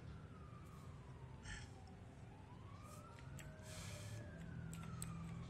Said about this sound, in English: those sirens were outside my door while I was playing